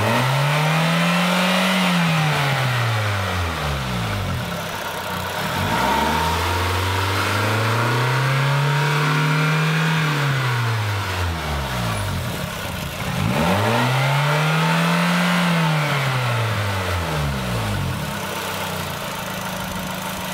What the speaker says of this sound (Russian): Работа двигателя на высоких оборотах.